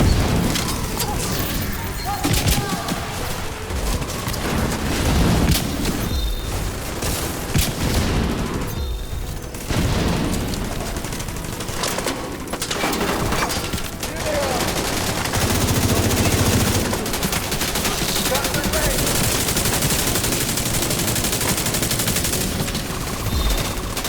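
Continuous in-game combat from The Division 2: dense rattling gunfire mixed with heavy booms of grenade and artillery explosions, loud and busy throughout with no pause.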